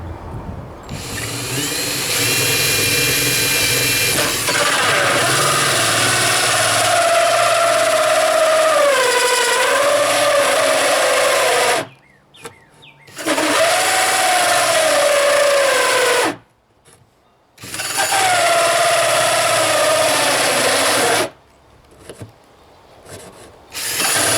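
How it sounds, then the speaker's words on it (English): A battery power drill grinds steadily into wood, boring a tree stand hole in a model train platform, its motor pitch dipping under load, with three brief pauses before drilling resumes. "we're going to actually drill out the tree stand hole"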